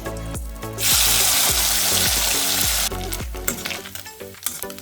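Small puthi fish drop into hot oil, and a loud burst of sizzling rises over the rhythmic clatter of a utensil, then settles into crackling frying with scattered scrapes.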